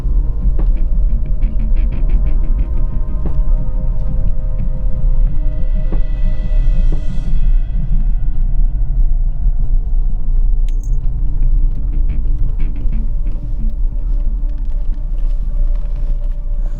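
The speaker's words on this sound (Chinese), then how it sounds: "轮胎都有点打滑了。" A car climbs a steep, winding mountain road toward a remote abandoned cliff temple, its engine giving a loud, steady rumble and throb throughout with loose rattling and jangling inside the cabin.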